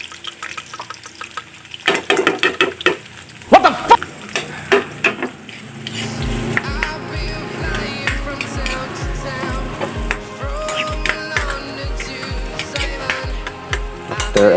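Garlic and onion hitting a hot pan in a home kitchen, first a few clanks and splashes, then a steady crackling sizzle with the rhythmic scrape of stirring.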